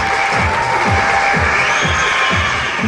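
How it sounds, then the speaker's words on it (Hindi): Dense, steady applause from an audience fills the space, loud and continuous with crowd noise underneath and no break throughout. "साफा पहना कर जोरदार तालियां"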